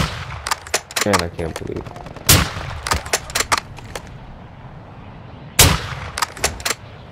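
Call of Duty gunfire crackling in bursts and single heavy shots, loud and close, with someone briefly speaking between volleys.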